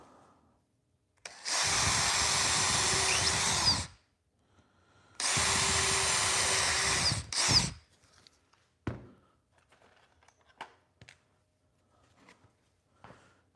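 A power drill whirs loudly drilling holes in a wooden birdhouse in two sustained bursts of a few seconds each, followed by scattered clicks and light handling noises.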